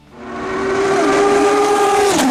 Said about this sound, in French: Il décide de remplacer son moteur Peugeot, pas toujours très puissant et pas toujours très fiable, par un moteur V10 Judd GV5 5 litres.